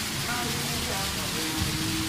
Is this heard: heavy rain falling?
yes